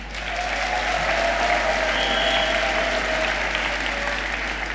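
Audience applauding steadily for a jury member, a Viktoria Plzeň footballer, at a Czech Miss Hasička firefighter beauty pageant gala evening, with dense sustained clapping from a large crowd throughout.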